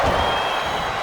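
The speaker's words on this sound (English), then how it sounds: "The crowd chanting, "We're not worthy."" A wrestling arena crowd in WWE 2K 2008 roars and chants in a dense, loud, steady wash of voices and clapping, heard alone.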